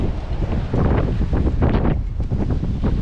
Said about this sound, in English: She's a bit windy